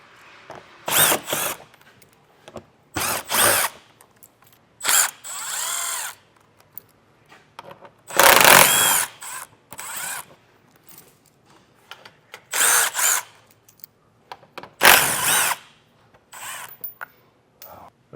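A power tool spins out skid plate screws on a 2024 Jeep Grand Cherokee in repeated short bursts of whirring, some longer than others, separated by quiet gaps.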